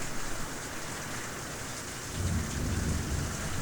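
Heavy rain pours in a dense, steady hiss, with a low rumble of thunder rolling in near the end.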